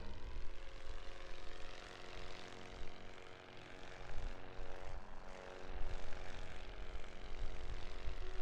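Propeller fighter planes droning steadily in a World War I trench-warfare strategy game, a continuous mid-level engine hum with slight swells and no speech.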